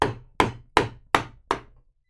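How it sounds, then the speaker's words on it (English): A big carving gouge driven into wood with five sharp, evenly spaced strikes, each a crisp close knock that rings briefly and fades before the next, then silence. "There's something really, really satisfying about using just a really big gouge"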